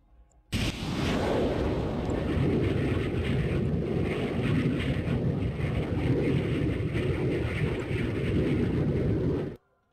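Loud, steady roar of a propeller aircraft engine in the video game Command: Modern Air / Naval Operations, running continuously for several seconds after an abrupt start, with a dense rumbling low end and no talking.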